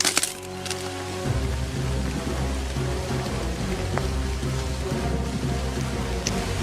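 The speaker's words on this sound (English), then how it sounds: "Oh man, the rain's coming down now." Heavy rain falls outdoors at a campsite beside firewood, a steady dense hiss of drops that fills the scene continuously after a few sharp woody knocks at the start, close and fairly loud.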